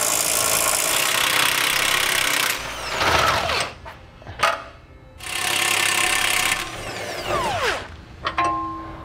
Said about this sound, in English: Remove these bolts.